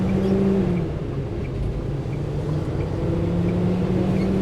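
An International truck's engine pulling away from a stop in second gear, a steady low diesel drone heard from inside the cab, loud and continuous.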